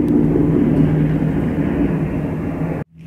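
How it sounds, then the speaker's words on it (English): An airplane flies low overhead, filling almost the whole clip with a loud, steady, rumbling engine roar that stops abruptly near the end. "I've just seen 2 planes, 1 helicopter, 1 plane fly so low."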